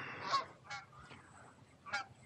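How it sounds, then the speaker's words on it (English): Canada geese honking nearby, three loud nasal honks with a softer call between them, outdoors without talk. "you want to know one thing about the Canada gooses?"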